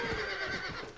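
A horse in the video game Red Dead Redemption gives a brief, close whinny lasting about a second, fairly faint.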